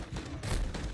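Two sharp, loud shotgun blasts in quick succession, each a broad burst of noise, the second near the end, with a rumbling tail between them.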